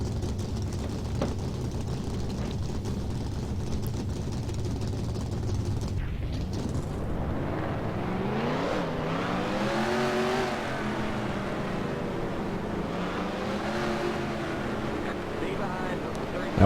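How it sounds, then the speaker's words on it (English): Race car engines in the NASCAR Racing 2003 video game fire up partway through, then rumble and rev in a rising, wavering chorus over a steady background hum. A voice talks over the engines. "Drivers, start them engines."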